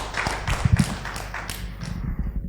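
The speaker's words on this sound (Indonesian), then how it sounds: "Berikan tepuk tangan untuk Ibu Awani." A live talk-show audience breaks into brief, scattered clapping, sharp claps spread across the first second and a half before thinning out and fading to quiet.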